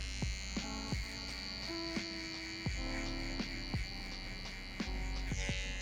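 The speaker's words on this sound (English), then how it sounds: "Now I'm going to transition to my liner" An electric liner trimmer hums steadily throughout a taper haircut, a continuous close buzz with short clicks and bursts as the blade works along the hairline, with no talking.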